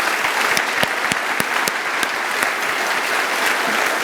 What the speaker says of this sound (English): I think Jervie deserves a wonderful round of applause.